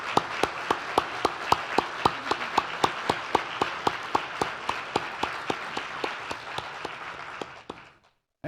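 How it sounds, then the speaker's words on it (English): A symposium audience claps for event sponsors in a steady, almost metronomic rhythm, about thirty sharp claps over eight seconds, then stops abruptly. "stand up and let's give them an applause"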